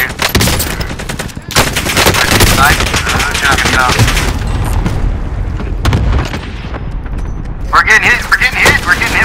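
Rapid automatic gunfire and heavy booms from a Call of Duty: Modern Warfare match, dense and continuous throughout with shots and blasts layered over one another, while players talk over the din.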